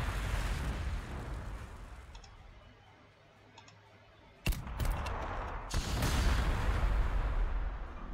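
Missile team firing in the Warhammer 40,000: Sanctus Reach strategy game, a sudden sharp launch blast followed by a second booming impact over steady battlefield ambience and low rumble.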